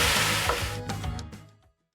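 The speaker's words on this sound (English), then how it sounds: "You can hear it sizzling." Brief crackling sizzle of beef and broccoli frying in a hot wok, with a soft stir, fading out within two seconds.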